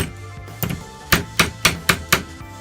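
A 223/556 brass cartridge case clamped in a vise and bent over with hammer blows, about six sharp metallic knocks in quick succession after a softer tap, close and clear over faint background hum.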